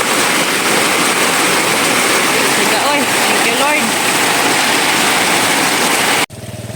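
Heavy rain pours down steadily in a loud, dense, unbroken hiss of falling water that cuts off abruptly near the end, with a voice speaking briefly over it.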